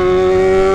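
A Yamaha XJ6 motorcycle engine holds a steady high rev, a loud continuous tonal drone close by with no voices over it.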